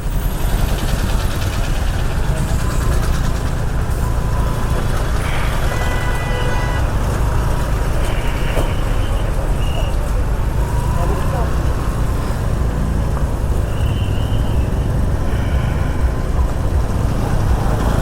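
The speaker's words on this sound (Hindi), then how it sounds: "यहाँ से ये ट्रैफिक जाम आपको देखने को मिलेगा" Dense highway traffic jam near Haridwar heard from a scooter, a steady loud roar of idling cars, trucks and buses with engine rumble, wind and occasional horn toots throughout.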